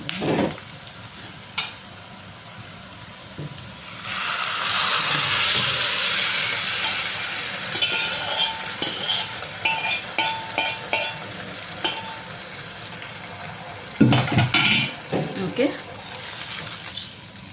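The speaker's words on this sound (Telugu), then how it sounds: "స్టవ్ ఆఫ్ చేసేసి మనం మజ్జిగ వేసేసుకుందాం" Buttermilk poured into a hot pot of majjiga pulusu on a just-switched-off stove, with a rushing splash followed by scraping, clinking stirring strokes and a lingering soft sizzle.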